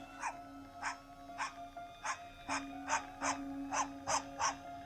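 A dog gives a steady run of short, sharp barks, about two per second, against the constant whine of a small DJI Neo drone hovering nearby, moderately distant.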